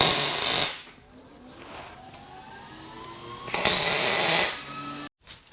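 Tack welding a custom steel bumper bar on a Honda Element: two short, crackling, hissy welding bursts about three seconds apart, close and loud, with quieter workshop noise between them.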